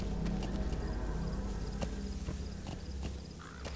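Horse hooves clip-clopping in the video game Metal Gear Solid V: The Phantom Pain, a steady run of close hoof beats over a low rumbling background, with no talk.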